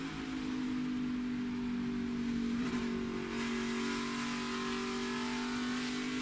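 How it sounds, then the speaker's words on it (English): NASCAR Xfinity Series race car engine heard from onboard, a steady droning roar that holds a constant pitch throughout with a brief swell midway, loud and continuous. "Cole Custer, as we ride along in that helmet cam, gingerly getting back into the gas."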